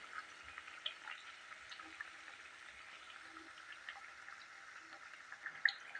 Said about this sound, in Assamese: ইলুটি সিলুটিকৈ ল' টু মিডিয়ামত আপোনালোকে ভালদৰে ৰঙচুৱাকৈ ভাজি ল'ব।